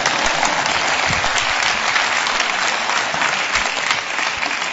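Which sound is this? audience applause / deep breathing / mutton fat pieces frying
audience applause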